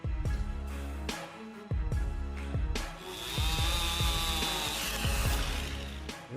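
Chainsaw cutting through a tree near a dead power line, with repeated bursts of engine revving and cutting, loud and close, some strokes sharp and short, a longer steady cut in the middle, no talking.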